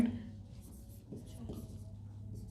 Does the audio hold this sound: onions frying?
no